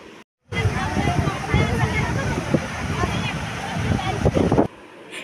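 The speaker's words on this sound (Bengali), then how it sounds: "এই জলের আওয়াজটা কিন্তু সব সময় শোনা যায়" Sea waves washing onto the beach at Puri, a steady loud broadband surge with wind buffeting, running continuously under nearby voices and crowd murmur after a brief silent gap at the start.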